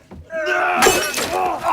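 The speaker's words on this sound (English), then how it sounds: "when Franco smashed it on McBride's head, his skull got injured" A glass bong filled with water smashes over an actor's head in a film scene, giving a loud, bright shattering crash with broken glass ringing out over a second, with a voice groaning through it.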